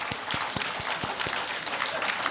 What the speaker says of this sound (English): And we're clapping.